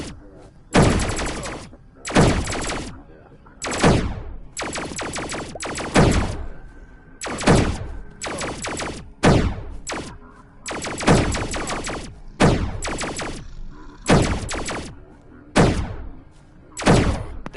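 Enemy rifle fire in Cubic Odyssey comes in repeated sharp bursts roughly every second or two, each volley a quick rattle of loud shots separated by short quiet gaps, with faint talk underneath.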